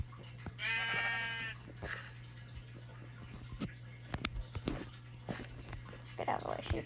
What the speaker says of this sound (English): out of the way, sheep.